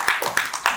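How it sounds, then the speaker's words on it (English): Scattered clapping from an audience at an autism superhero awards presentation, a few distinct hand claps in quick succession with voices underneath. "please give a nice round of applause to Ms."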